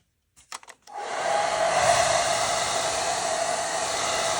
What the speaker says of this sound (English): let's take the blow dryer out